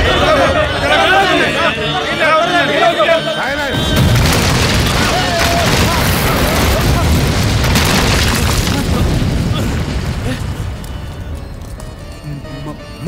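A bomb detonates in a movie scene, a loud boom cutting off a sustained tone and giving way to a dense, roaring rumble that lasts about nine seconds before slowly easing. Indistinct background commotion mixes in.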